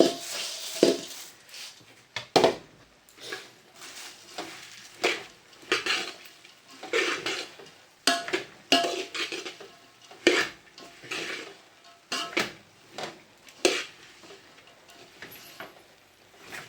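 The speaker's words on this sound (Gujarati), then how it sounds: "થોડીક વાર એને હલાવીશ સરખી રીતે કડક થઈ જાય ત્યાં સુધી" Puffed rice laddoo mixture being stirred in a pan with a spoon, giving repeated scraping and clinking strokes in an uneven rhythm, close and moderately loud, with no one speaking.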